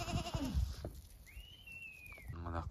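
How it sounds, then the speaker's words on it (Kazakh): Goats bleat on a farm at the foot of the Karatau hills in winter. A long, wavering high bleat rises over a rough, noisy background, followed by a shorter, harmonically rich bleat near the end. "Мына жерде тек қана менікі ешкі."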